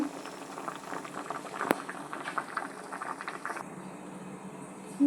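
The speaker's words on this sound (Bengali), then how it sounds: "ডিম আর আলু একসাথে সিদ্ধ হয়ে গেছে ডিম সিদ্ধ হয়ে ফেটে ফেটে গেছে" Eggs and potatoes boiling together in a pot of water, a dense continuous bubbling and gurgling heard close and steady for several seconds, with a brief louder knock near the end and no talk.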